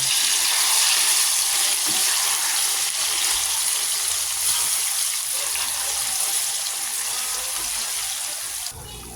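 Bananas fry in hot oil with melted brown sugar, a steady, loud, close sizzle that holds for about nine seconds with no talking.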